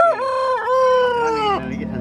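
A rooster gives one long, close, loud call with a strained, wavering tone that breaks off near the end.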